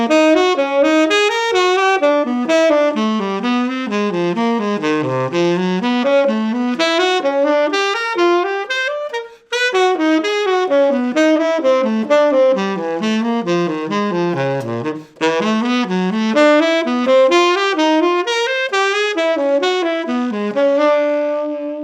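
Saxophone running a pentatonic shifting pattern, rapid continuous streams of notes climbing and descending in repeating sequences, played solo and loud with two brief pauses.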